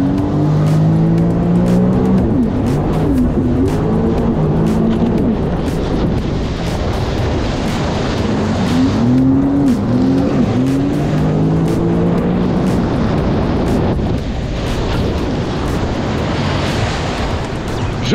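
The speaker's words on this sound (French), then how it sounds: "Je confirme, ça freine dur" A Sea-Doo 170 Explorer personal watercraft on open water, its engine droning loud and close with rising and falling pitch as it slows hard, mixed with rushing wind and water spray throughout.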